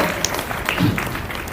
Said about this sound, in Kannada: ಚಪ್ಪಾಳೆಯ ಮೂಲಕ ಅವರಿಗೆ ಪೂರ್ವಕ ಸ್ವಾಗತವನ್ನು ಕೋರೋಣ